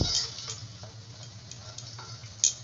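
Mutton masala with coriander paste stirred in a hot pan, with a steady low sizzle and soft scraping of the spoon and a brief clink near the end.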